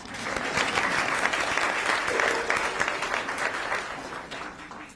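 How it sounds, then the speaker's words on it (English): A school groundbreaking audience applauds a mariachi band and student groups from South High School with loud, sustained clapping from many hands that tapers off toward the end. "Let's give them a round of applause"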